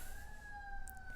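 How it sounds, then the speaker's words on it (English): A passing emergency vehicle siren wails steadily at a moderate distance, two sustained tones holding throughout with background hum. "That's a siren on our side, by the way, not yours."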